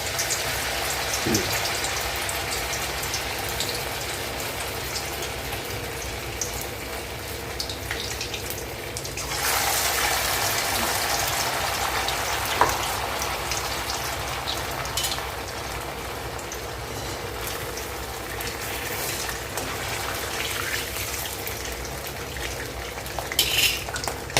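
Medu vada batter fries in hot oil with a steady, dense crackling sizzle that runs throughout. It swells briefly louder partway through, with faint clinks of utensils and no talking.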